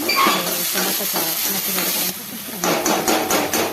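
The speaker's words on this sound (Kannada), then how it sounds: "ಟೊಮೊಟೊ ಸ್ವಲ್ಪ ಮೆತ್ತಗಾಗಬೇಕು ಅಲ್ಲಿವರೆಗೂ ಫ್ರೈ ಮಾಡಿಕೊಂಡು" Salted tomato frying in a pan until soft for a ridge gourd palya makes a close, loud sizzle, broken by brisk scraping and tapping of a spatula, with a short dip before the sizzle surges again.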